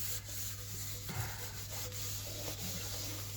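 Animal feed bowls are scrubbed with steel wool, a continuous harsh rubbing and scraping with rhythmic strokes and a low steady hum underneath, with no talking.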